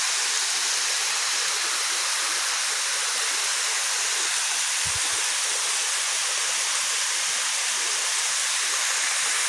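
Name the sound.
Tobo-Tobo Mini Falls waterfall in Matalom, Leyte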